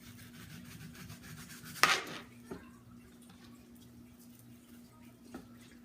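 A knife chops through the ends of a peeled onion on a cutting board, one firm cut followed by a lighter tap and another soft knock later, over a low steady hum.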